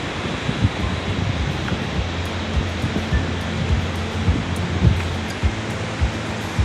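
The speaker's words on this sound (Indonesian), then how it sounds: "sekitar 20 meter lagi, kita akan bertemu dengan air terjun Kedabuhan" Water rushes and roars continuously at the Kedabuhan waterfall in a forest setting, a dense, steady wash of noise with occasional low thumps from wind or handling nearby.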